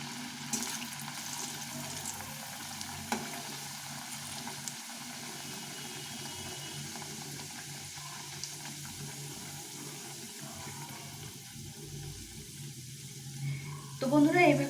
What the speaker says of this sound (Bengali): তেলটা গরম হয়ে গেছে, এখন আমি লুচিগুলো ভেজে নেব।